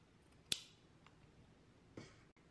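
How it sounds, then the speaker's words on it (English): Scissors trim bias tape for a sewn armhole finish, giving a couple of sharp, quiet snips spaced apart in a calm indoor setting, with no talking over them. "I'm going to grab my scissors and just trim some of this away"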